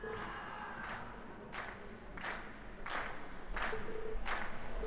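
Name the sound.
audience cheering and applauding at a concert, from a video game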